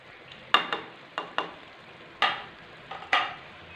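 Dry spices and turmeric stirred into softened tomatoes frying for a desi black chickpea dish, heard as several sharp scraping stir strokes over a low steady sizzle, close and clear with no talking.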